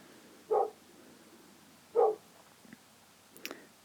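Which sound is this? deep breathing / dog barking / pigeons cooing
dog barking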